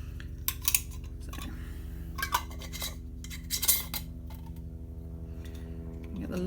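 Metal lids set onto glass mason jars of crushed tomatoes, giving a few sharp clinks and light metallic taps scattered over a steady low hum, fairly close and moderately loud.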